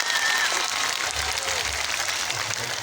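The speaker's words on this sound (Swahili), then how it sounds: "Makofi kwa Festus." A crowd claps at a school swearing-in ceremony at Milimani Primary School, a dense, continuous applause with faint voices mixed in.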